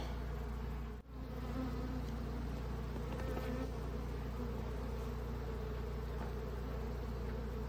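Honey bees swarm around hive frames during queen rearing, a steady, dense, close buzz that holds level throughout, broken once by a brief knock.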